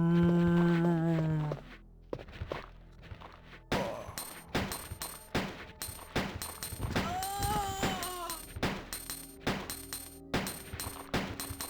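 Female zombies moan and groan in the Resident Evil game, a low drawn-out cry heard between bursts of rapid, sharp gunfire that keeps cracking throughout.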